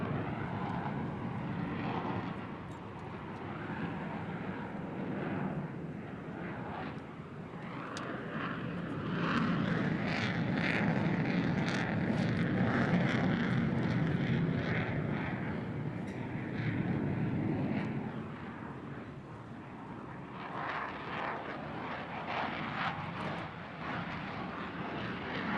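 An F-35C fighter jet roars past in an air show pass, a loud, sustained engine rumble that swells in the middle and eases off, heard from a distance with no talking.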